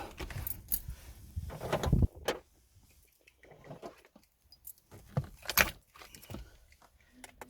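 Car keys jangle close by while an old ignition switch is swapped for a new one on a Buick, with rattling bursts early on and again later, and quiet handling between them.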